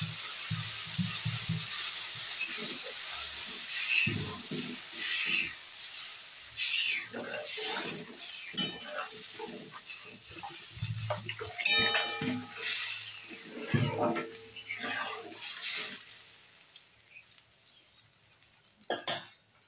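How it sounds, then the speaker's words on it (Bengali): Water splashes into fried spices for a pointed gourd curry, setting off a bright hissing sizzle with clinks and stirring scrapes, loud at first then settling into intermittent crackles and knocks. "একটু জল দিয়ে দেবো, কষা হয়ে গেছে মশলা আমার।"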